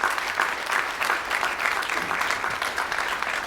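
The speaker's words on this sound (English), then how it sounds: "Let's give these guys a round of applause" Audience applause at a NASA Asteroid Initiative industry and partner day, a steady wash of many hands clapping at moderate distance, sustained evenly for a few seconds with no speech over it.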